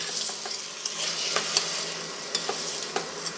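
Mutton sautés in a pressure cooker for biryani, a dense hissing sizzle with light scraping stirs and occasional soft clicks of the spoon, close and continuous, no voices.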